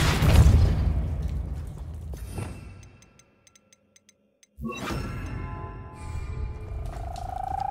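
Depulso spell cast in Hogwarts Legacy: a heavy booming burst that decays into a near-silent gap of faint ticks, then a second whooshing surge with a rising shimmering tone.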